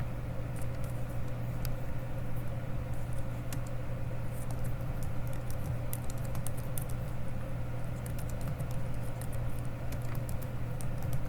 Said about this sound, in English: I'm going to type some more.